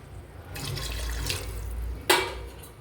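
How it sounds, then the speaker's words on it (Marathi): Water is poured into a pot of khichdi with rice, potato and coriander, a soft steady gush in the middle followed by a sharp splash near the end. "तर इकडे चालू आहे पाणी टाकायला"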